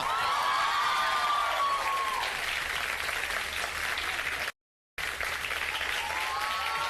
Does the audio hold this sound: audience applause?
yes